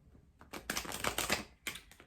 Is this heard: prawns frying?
no